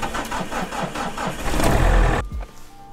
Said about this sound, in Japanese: ちょっとエンジンかかるか心配